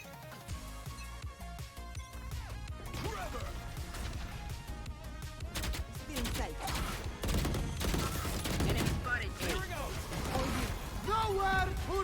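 Rapid volleys of gunfire in a tactical shooter match with Sage on the team, bursts and impacts crowding a continuous dense mix under steady voice chat and background music.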